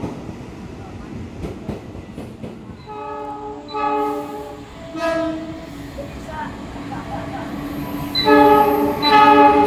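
The Argo Cirebon passenger train passes through a busy Jakarta station, its rumbling wheels heard first, then several loud sustained horn blasts, the last and strongest near the end.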